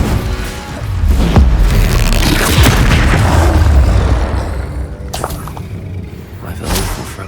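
Spell explosions in the video game Hogwarts Legacy, loud booming blasts and whooshes that swell and fade, followed by a few sharper hits near the end.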